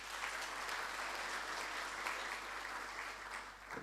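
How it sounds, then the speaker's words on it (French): Steady applause from a conference audience at a university summit opening session, dense and continuous at moderate distance, with an electrical hum underneath. "Je vous demande de l'applaudir, s'il vous plaît."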